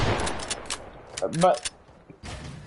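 Shotgun fire in a video game, with the pump racked between shots: several sharp, loud blasts in quick succession, then a short quiet gap and another burst near the end.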